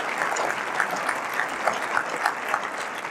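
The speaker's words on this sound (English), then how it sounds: "So applause, applause, applause." Applause from the audience at a high school instrumental music winter concert, a steady wash of clapping with a few louder claps standing out, heard from within the crowd and fairly loud.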